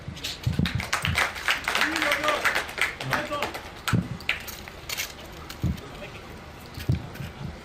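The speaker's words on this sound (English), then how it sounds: "Let's give them a round of applause, please." Audience applause at a Nigerian Police demonstration, ragged scattered clapping mixed with crowd noise and voices, fairly distant and uneven with a few sharper bursts.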